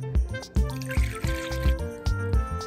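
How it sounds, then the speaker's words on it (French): Lukewarm water trickles and drips in a kitchen while bread dough is being prepared, with harmonic tones and a few soft thumps underneath, alone and fairly close. "Je prends un peu d'eau tiède"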